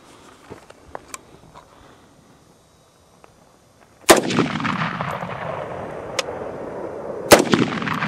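Gunshots from a Bushmaster ORC AR-10 .308 rifle fired outdoors: after quiet with faint ticks, a loud, sharp blast at about four seconds rolls into a long echoing tail, then a second crack follows.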